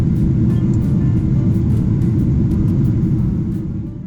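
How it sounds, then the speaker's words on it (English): An American Airlines airliner climbs after takeoff from Sydney bound for Los Angeles, heard from inside the cabin as a loud, steady, deep engine rumble that eases slightly at the end. "After takeoff, we turned left, climbing above the clouds and setting course for the United States."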